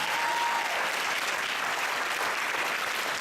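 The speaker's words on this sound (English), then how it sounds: "Give her another tremendous round of applause." A large crowd at an evening talk gives a tremendous round of applause, dense, even clapping that holds steady and loud throughout.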